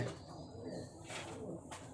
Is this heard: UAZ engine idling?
no